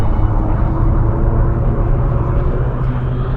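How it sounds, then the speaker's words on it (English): Loud, sustained roar of fighter jet turbines in the film Top Gun, with a Shepard tone that seems to rise endlessly in pitch, a dense, steady wash of engine noise with no speech. "Listen to it here in the rising turbines."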